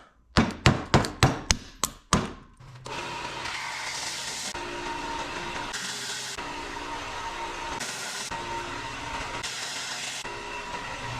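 A wood lathe turns a blank of red cedar set in resin: a quick series of sharp knocks as the piece spins up, then a steady whirring drone with a faint periodic thump, close and moderately loud, no talking.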